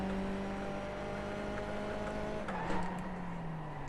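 A Skip Barber race car engine in the iRacing simulator at Okayama drones steadily, its pitch holding and then dipping as it shifts, loud and continuous with no voices over it.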